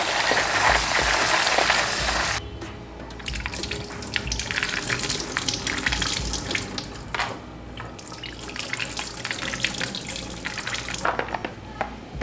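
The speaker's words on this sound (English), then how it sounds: "I'm just gonna give it a little wash." Nuts rinsed under a running kitchen tap, water splashing steadily into a sink, the flow changing in tone as the nuts are moved under the stream, close and continuous.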